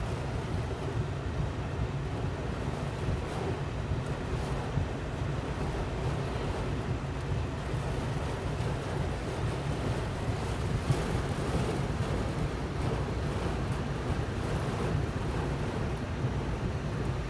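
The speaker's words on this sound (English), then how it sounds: "That's the wind." Strong wind from Tropical Cyclone Hilary roars steadily, buffeting the microphone with constant low rumble alongside surf-like noise, loud and continuous with no talking.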